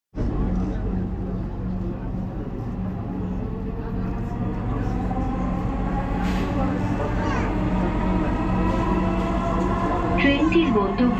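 Inside a Dhaka Metrorail train running between stations in the city, a loud, continuous rumble of wheels and motors fills the carriage, with a rising whine building toward the end.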